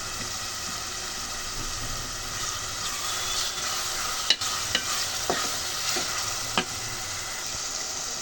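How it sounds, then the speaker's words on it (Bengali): Tomatoes and onions sizzle as they fry in a pot, a broad steady hiss broken by a few sharp clanks and scrapes of a spoon stirring against the metal. "টমেটো পেঁয়াজ ভাজা হয়ে গেছে"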